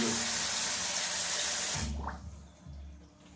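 Hot water gushes loudly from a newly installed bathtub faucet opened to full flow, a steady broadband rush that cuts off abruptly partway through, leaving a few low knocks and faint residual trickles.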